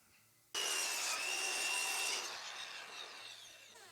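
A miter saw bites into a wooden board for a bird table, starting abruptly and cutting loudly and steadily for a few seconds before the whine slowly tapers off.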